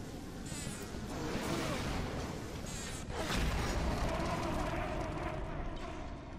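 Swarming bees in the underwater game Bioshock make a continuous buzzing drone with a few louder thumps mixed in, sustained and moderately near.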